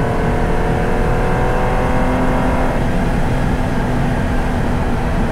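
A 1973 Porsche 914/6 engine drones loud and steady up close, a continuous rough mechanical roar with a shifting tone as it revs through a gear change, with no voices.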